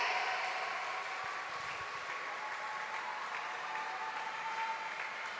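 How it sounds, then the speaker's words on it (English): Steady applause from a crowd at a swimming event of the 2019 Department of Defense Warrior Games, a continuous even wash of clapping holding at the same level throughout. "Round of applause, folks."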